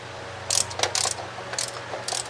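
A ratchet tightening a fuel line fitting, several short bursts of crisp clicking close up, with brief pauses between strokes.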